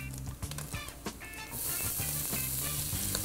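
Chopped onion and garlic tipped into hot oil, a few clatters and faint background music, then a sudden broad hissing sizzle that holds steady and fairly loud to the end.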